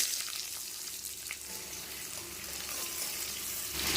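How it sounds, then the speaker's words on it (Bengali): Chopped onions fry in oil in a wok (kadai), a steady close sizzle throughout with no talking, for a spicy river fish curry. "পেঁয়াজগুলিকে লাল লাল করে খুব সুন্দরভাবে ভেজে নিচ্ছি"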